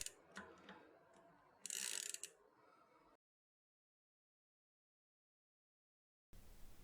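A bicycle freewheel ratchet is threaded on by hand, giving a run of close, quick clicking ticks with a brighter burst of rattling, then silence.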